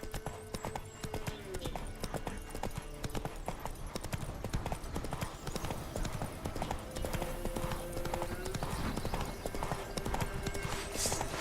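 Horse hooves clip-clop steadily and up close in the open-world fantasy game The Witcher 3: Wild Hunt, a brisk regular gallop rhythm that runs the whole way through, with a brief whinny-like tone and some faint voice underneath.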